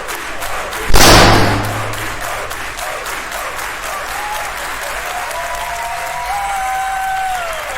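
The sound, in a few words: standing ovation applause in a theater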